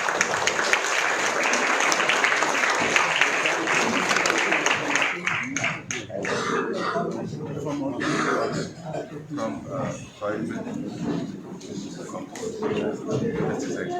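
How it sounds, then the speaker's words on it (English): An audience at an organic cotton summit in a hotel in Nagpur applauds loudly for about five seconds, then the clapping thins into scattered claps, murmuring, shuffling and a throat clearing as people talk nearby. "Can we have a round of applause?"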